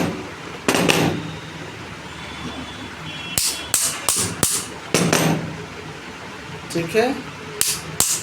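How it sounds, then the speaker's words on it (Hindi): A hammer strikes a copper pipe during swaging as it is turned, sharp metallic blows falling singly and in quick clusters at close range, with people talking between them. "घूम रहा है और इसको ठोक भी रहे हैं।"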